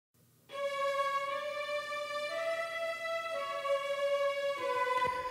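Sustained bowed string tone, real strings layered with the Spitfire BBC Orchestra software instrument, holding long notes that shift pitch a couple of times, smooth and steady with no talking.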